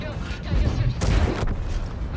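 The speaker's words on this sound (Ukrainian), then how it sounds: "Ну і ще один постріл." A heavy Type 68 tank cannon blast in World of Tanks booms once, followed by rumbling echo and a second burst of noise, loud and close.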